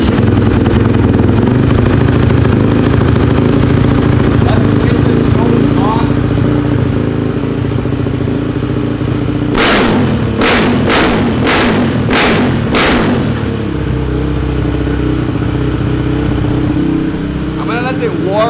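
A Honda CRF450R fitted with an FMF Factory 4.1 exhaust idles on a cold start inside an enclosed room, a loud steady low rumble with a quick burst of sharp blips partway through.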